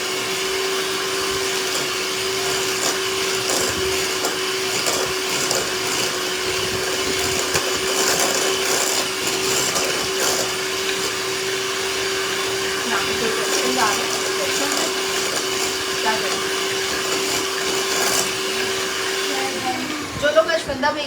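An electric mixer whirs steadily while mixing milk into batter, a constant motor hum that cuts out near the end with a few clatters, and voices talk faintly over it.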